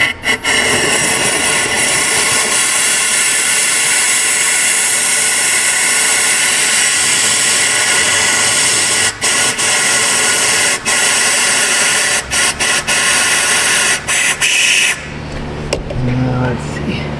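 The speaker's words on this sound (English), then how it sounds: "blast a little air" Compressed air blasting through the heater hoses of a high-mileage 2021 Ram 2500 6.4 HEMI with no heat on the driver side, a loud continuous hiss with brief breaks that ends abruptly near the close.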